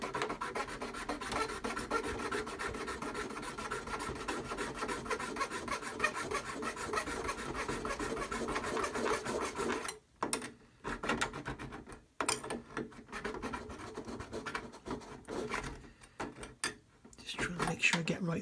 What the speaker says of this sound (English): Get the coarse side of the saw.